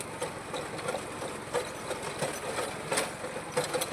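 A tractor drives a rotavator through a drumstick orchard, its engine running steadily with rapid mechanical knocking and a chattering rattle, no voices.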